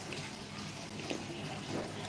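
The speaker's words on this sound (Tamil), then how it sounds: "தண்ணியை நான் திறந்து விட்டு வர" A tap runs steadily at home, a broad continuous rush of flowing water, fairly faint and unbroken with no voices over it.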